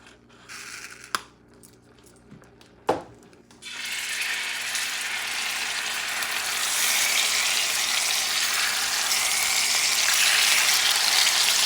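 Bison skirt steak sears in sunflower oil in a very hot cast iron pan over high heat. After a few quiet seconds with a couple of sharp clicks, a loud, close, continuous sizzle starts and grows stronger. No one speaks.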